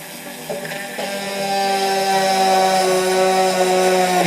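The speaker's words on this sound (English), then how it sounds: "Now we need the drill." A power drill whirs continuously during Hangar 9 Ultra Stick model airplane wing assembly, starting with a couple of short bursts then running steadily at a high, loud pitch.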